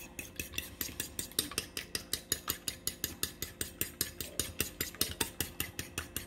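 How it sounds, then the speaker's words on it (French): Two eggs whisked in a bowl with quick, even metallic clicks of the whisk against the side, a fast steady rhythm that carries on without a break, close and fairly quiet. "les 2 œufs, on les bat"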